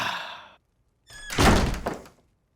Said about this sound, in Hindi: दरवाजा बंद करते जाना।